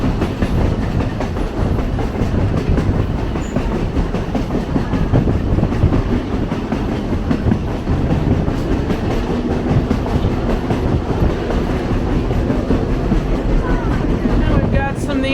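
Lehigh Gorge Scenic Railway passenger train rolling along its tracks past marshland, a loud continuous rumble with steady clickety-clack of wheels over rail joints heard from inside the car.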